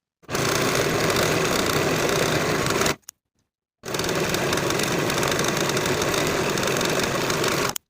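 A sewing machine finishes the side and inseam edges of women's elastic-waist pants, running in a loud, steady whir for about three seconds, pausing briefly, then stitching continuously again for four more seconds.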